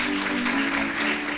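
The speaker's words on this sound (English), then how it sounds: "Shall we continue to clap?" Audience applause after a speech at an HWPL peace event, a steady, fairly loud wash of clapping from a crowd with a faint hum beneath, no talking.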